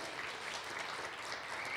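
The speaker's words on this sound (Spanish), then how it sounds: "Si quiere, le dé un aplauso, por favor." Church congregation applauding to welcome a visiting sister, a soft, steady wash of clapping heard from a distance and sustained without pause through the short moment.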